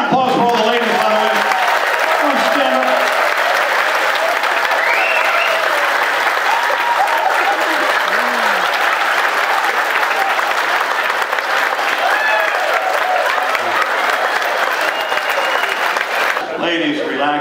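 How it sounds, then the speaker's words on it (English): Audience at a hypnotist show aboard a cruise ship applauding the ladies, a steady, sustained wash of clapping and crowd noise, with voices and a few whoops rising through it. "Big round of applause for all the ladies, by the way."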